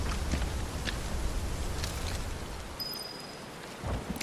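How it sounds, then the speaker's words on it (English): Steady rain hisses with a low rumble of thunder underneath in Final Fantasy VII Rebirth, constant and enveloping, with a few brief louder patters near the end. "I love the storm and the rain."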